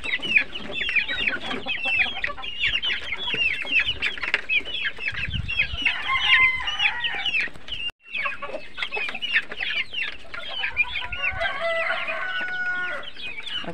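Hens and roosters cluck steadily on a farm where chickens and pigs are kept, with dense overlapping calls, squawks and an occasional crow throughout, fairly close and loud, with no talking.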